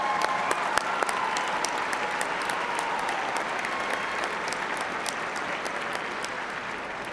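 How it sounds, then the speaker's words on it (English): A graduation ceremony audience claps in a sustained, full round of applause, dense and even throughout, with a few sharper individual claps standing out close by. "How about another big round of applause for Professor John Strada on all his names."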